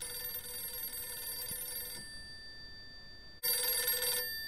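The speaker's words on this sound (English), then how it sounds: "Phone's ringing." Electronic telephone ringing in a dark room, a steady warbling tone with harmonics that breaks off for about a second and a half and then returns louder and brighter, with no voices.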